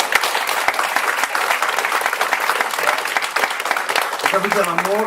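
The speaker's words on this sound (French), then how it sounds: "je vous demande de faire un tonnerre d'applaudissements pour Renaud" Audience applause welcoming Renaud, the evening's patron, onto the stage at a launch party: dense, sustained clapping from a large crowd throughout, with a voice briefly rising over it near the end.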